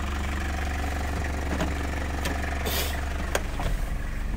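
A 1991 Toyota Hilux pickup idles with a steady low engine rumble close by, with a few faint clicks and knocks over the top and no talk.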